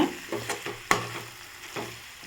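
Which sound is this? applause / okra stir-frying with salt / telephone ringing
okra stir-frying with salt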